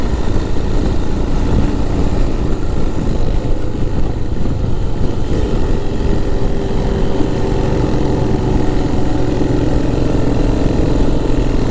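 A vintage motorbike engine drones loudly and steadily through a rough, broadband roar as it overtakes on a rideout, with no talk over it.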